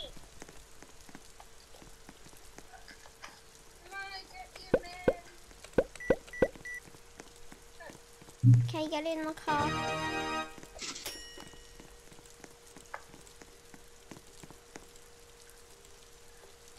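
Rain patters steadily on a surface throughout, with a few louder drops. Someone speaks briefly partway through, and there are other thumps and rustles.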